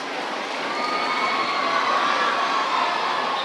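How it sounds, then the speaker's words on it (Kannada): A large crowd welcoming the Chief Minister, D.K. Shivakumar, to a public event in Basavakalyan, Bidar, cheers and claps in a loud, continuous roar with a steady wash of applause throughout. "ಜೋರಾದ ಚಪ್ಪಾಳೆಯೊಂದಿಗೆ ನಾವು ಅವರಿಗೆ ಸ್ವಾಗತಿಸೋಣ, ಅಭಿಮಾನ ಪೂರ್ವಕವಾಗಿ ಸ್ವಾಗತಿಸೋಣ"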